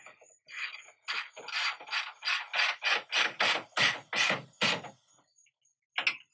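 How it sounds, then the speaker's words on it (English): A wrench ratchets rhythmically, about a dozen evenly spaced clicking pulls, tightening nuts on fender flares of a 2007-2018 Jeep Wrangler JK, loud and close, ending in a pause and one last click. "I'll take a wrench on the back side of the nut and start tightening these up."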